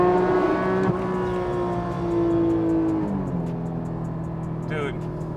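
Porsche 911 GT3 Touring with a 4.5L engine and manual gearbox, revving toward redline in third gear, a smooth rising engine howl that climbs steadily, drops briefly at a shift, then settles into a steady drone, with a voice talking over it.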